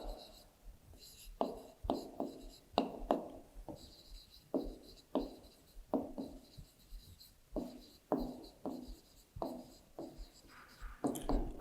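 Pen or chalk writing numbers during a Class 3 maths subtraction lesson, short scratchy strokes repeating in an irregular rhythm, faint and close, under a teacher's quiet speech.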